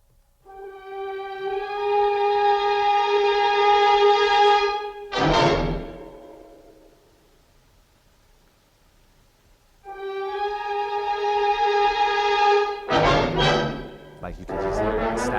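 A beat built on a sampled TV theme: sustained harmonic stabs ring for several seconds, break off into a percussive hit, go quiet, then return with another stab phrase ending in punchy hits.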